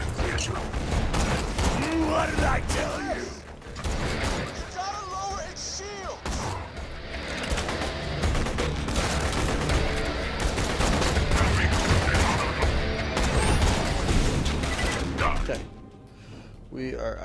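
Heavy, sustained weapon fire from a Borderlands 2 battle, loud overlapping bursts and booming shots rolling on almost without pause, with mechanical clatter mixed in and voices shouting beneath the din before it drops off near the end.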